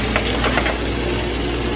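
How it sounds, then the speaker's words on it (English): Rainbow trout fillets sizzle skin side down in a hot pan, giving a steady, close frying hiss with faint crackles and no talk. "I'm gonna cook it skin side down first."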